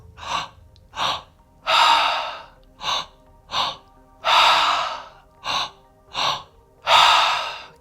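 Heavy, forceful breaths during a breathwork session, about ten loud gasping inhales and exhales in an uneven rhythm, some short and sharp, others long and drawn out, close and without speech.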